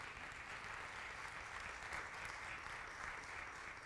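A church congregation applauding, a faint, even sheet of clapping from many hands that holds steady without breaks.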